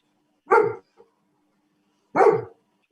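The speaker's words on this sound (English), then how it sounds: "We have a dog in the kitchen running around." A dog in a kitchen during a cooking competition gives two short, sharp barks about a second and a half apart, fairly close, with quiet pauses between.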